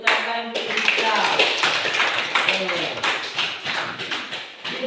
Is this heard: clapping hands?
yes